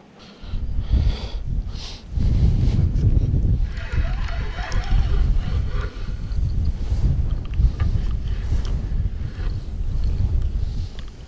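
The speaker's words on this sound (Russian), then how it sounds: "Ветер сносит. С ног сбивает." Strong autumn wind at a fishing spot buffets the microphone in heavy low rumbling gusts, with splashing water and faint voices mixed in.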